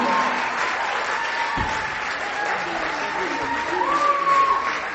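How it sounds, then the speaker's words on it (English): Audience applause at a Barefeet Theater Christmas show, steady broadband clapping throughout with a sustained tone and some crowd noise beneath, holding level to the end. "Big round of applause"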